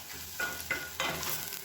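A spoon stirs millet tomato rice with spices in a hot pan, giving a few quick scraping strokes over a steady soft sizzle, close and fairly quiet.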